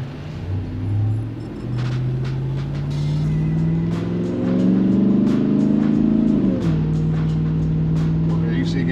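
Loud, throaty engine rumble of a 2021 Ram TRX pickup with QTP exhaust cutouts open rises as it revs and accelerates, pitch climbing then dropping with a shift, under a steady exhaust drone.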